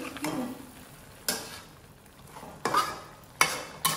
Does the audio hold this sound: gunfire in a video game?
no